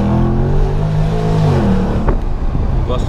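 A Porsche Panamera's engine revs hard under acceleration, a loud close-up rising growl with shifting harmonic tones and a brief gear-change dip near the end.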